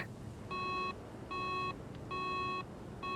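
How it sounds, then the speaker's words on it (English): In Minecraft, four evenly spaced bursts of steady electronic beeping from a tracking device, each lasting about half a second, clear and fairly close over a faint background hiss. "do you hear beeping?"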